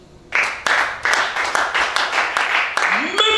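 Church congregation applauding together in rhythmic bursts of clapping that swell and repeat in waves, loud and close, with a voice rising briefly at the end.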